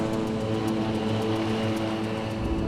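A seaplane takes off across the water, its propeller engine droning loud and steady with a constant hum and roar and no voices over it.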